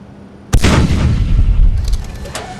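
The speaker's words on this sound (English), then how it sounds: "Firing a ton of guns out of the front of this thing" Guns fire in a single heavy, booming volley from the front of a ship hovering above a planet in the Space Engineers video game, loud and close, with a long rumbling decay.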